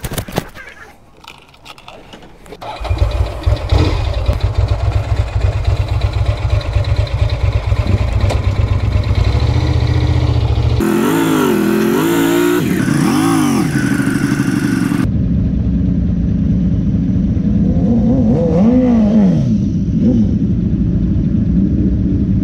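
A group of about nine motorbikes idles and rumbles together outside a cafe, with engines blipping and revving at times. The sound is loud and continuous after a quieter opening, and some voices can be heard faintly in the background.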